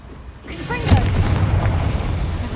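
Confringo blast spell going off in Hogwarts Legacy: a sudden deep boom bursts in after a brief quiet lead-in, followed by a sustained rumbling roar that lingers to the end.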